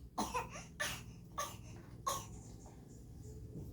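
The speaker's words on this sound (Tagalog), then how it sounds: "Pinipik mo naman yung ubo mo." A baby gives several short coughs in a row, close by, followed by a softer fussy sound over low background hum.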